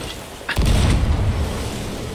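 A cannon firing chain shot in a ship battle video game: one deep booming blast followed by a rumbling decay, loud and close.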